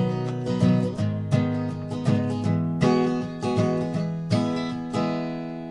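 Acoustic guitar strumming the second-stanza chord progression of a song, with steady, clearly repeated chord strokes that ring out close and alone, with no voice over them.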